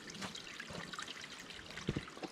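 Water trickles and pours into a soft pouch being refilled on a hiking trail, a short, faint splashing dribble with a couple of gurgling bursts near the end and no talking.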